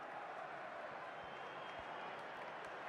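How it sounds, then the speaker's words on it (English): Faint stadium crowd noise from the FC Mobile football video game, a steady distant roar of cheering fans that holds evenly throughout with no clear peaks. "The crowd certainly think so. Just listen to them"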